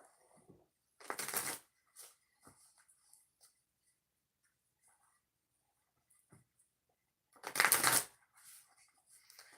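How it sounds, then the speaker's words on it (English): Two distinct bursts of tarot cards being riffled and shuffled, crisp and close, separated by quiet stretches with light handling clicks and taps. "I'm going to do 2 shuffles before we do the bonus"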